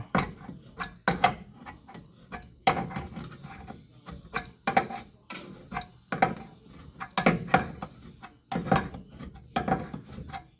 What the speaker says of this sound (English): Just trying to clean them threads up